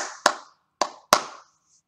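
Three sharp hand claps from a teacher in a music lesson: two spaced evenly, then one more after a short gap, each ringing briefly in a quiet room.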